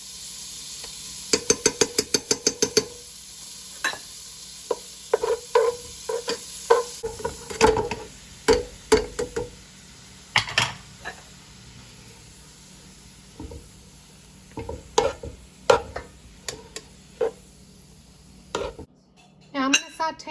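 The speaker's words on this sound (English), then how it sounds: "I'm gonna put my spaghetti in here and I'm gonna saute it for a little bit" Spaghetti sautés in a pan with minced garlic, a low sizzle running beneath a steady series of sharp metallic taps and scrapes from a utensil stirring and tossing the pasta.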